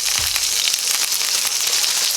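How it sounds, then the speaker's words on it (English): A five-spice chuck roast browns in a hot pan, giving a loud, steady sizzle and crackle of frying fat throughout, with no talking. "as I'm letting this brown"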